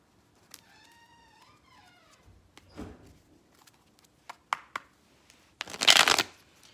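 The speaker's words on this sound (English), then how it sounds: "Shuffle them again." Tarot cards shuffle in a few scattered bursts, ending in a louder riffle, with a brief meow-like sound near the start and no speech.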